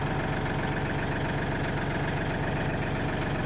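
A Yanmar 39 hp tractor engine idles up close, a steady, loud diesel chug with an even knocking pulse running throughout and no voices.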